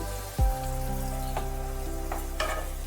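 Hot water hits a hot pan of fish-head and bottle gourd curry with a sudden splash, then settles into a steady close sizzle and bubbling hiss with a few faint clinks.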